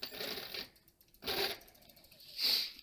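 Homemade 3D-printed 24V dual friction drive motors spin up in three short bursts of whirring with quiet gaps between them, faint and without talk.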